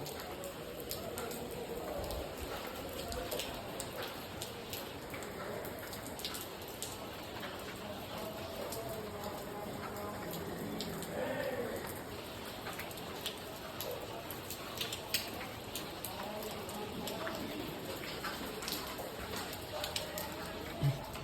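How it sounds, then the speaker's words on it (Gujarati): Early-morning rain falls steadily outside in a hilly area, a soft continuous patter heard at a distance, with occasional small knocks and faint voices in the background. "બહારનો નજારો જોઈ લ્યો, વરસાદ ચાલુ છે."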